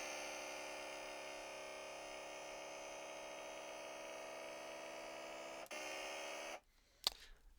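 A synthesizer imitating a motorcycle engine gives a steady, buzzing drone rich in harmonics for several seconds, then cuts off abruptly, leaving a brief click and faint noise.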